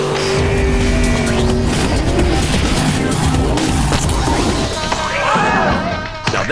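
Monster trucks Roger Dodger and Category 5 compete in an arena, with loud roaring engines, revving surges and crashing impacts blending into a dense, continuous din under excited crowd noise.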